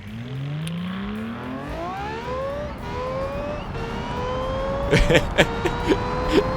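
A simulated car engine in a car design video game revs and climbs steadily in pitch through several gear changes, sounding high and shrill like a racing car, with a few sharp clicks near the end.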